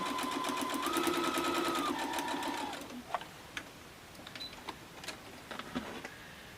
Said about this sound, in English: Okay, we have these two stitched up.